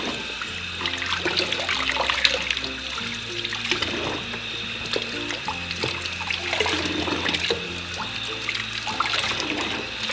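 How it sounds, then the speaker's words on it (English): Steady running water from a faucet, splashing and trickling continuously as hair extensions are rinsed of shampoo beneath the stream, with no voices. "I'm just going to do a little bit more under the faucet"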